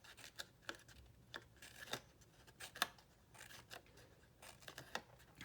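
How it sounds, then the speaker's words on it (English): Quick scissor snips cut through paper in an irregular series of short, crisp clicks, close and fairly quiet with no talking. "So obviously I'm not going all the way in with the scissors, just mini splits."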